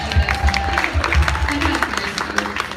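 A crowd claps steadily throughout at a live music show at The Listening Room Café, dense and continuous, with a low rumble underneath.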